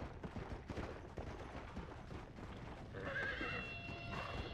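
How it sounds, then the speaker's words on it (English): A horse whinnies and clip-clops in Red Dead Redemption: Undead Nightmare, steady galloping hoofbeats throughout with a clear neigh rising near the end, close and moderately loud. "Come on, horse."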